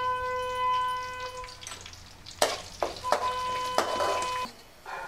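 Curry leaves hit hot oil in a pan for lemon rice, with green chillies already in it, and crackle in sharp bursts of sizzling pops. The frying comes close and moderately loud after a steady quieter hiss.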